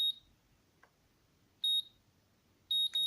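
Short, sharp electronic beeps from a FrSky-style Nirvana NV14 radio transmitter running OpenTX, marking stick centring, sound in a sparse pattern: one at the start, one later, then a double beep near the end, with near silence between.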